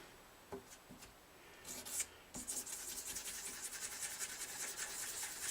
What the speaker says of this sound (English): Rub lightly, rub circular motions.